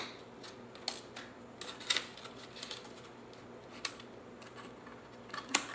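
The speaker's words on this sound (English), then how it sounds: "Cut a little more off if you need to." Scissors trimming a paper mailbox treat holder: a quiet series of short snips and papery crinkles at irregular intervals, close but faint over a steady low room hum.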